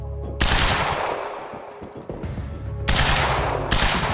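Rapid gunfire from the video game Quantum Break, aimed at explosive barrels, sounding as loud bursts with a short pause before a second heavy burst.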